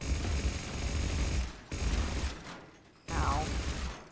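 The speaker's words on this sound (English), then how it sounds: "The guns protecting the tower!" Rapid bursts of gunfire from defensive tower guns in the Mass Effect video game, loud and dense in two long volleys separated by brief pauses, with a voice speaking faintly underneath.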